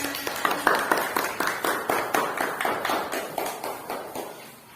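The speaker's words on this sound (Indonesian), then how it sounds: "Tepuk tangan." A classroom of students claps together in a rhythmic, unison pattern, sharp regular claps repeating about twice a second and gradually fading toward the end.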